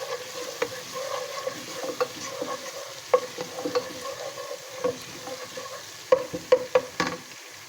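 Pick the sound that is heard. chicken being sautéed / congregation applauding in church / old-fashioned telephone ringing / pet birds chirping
chicken being sautéed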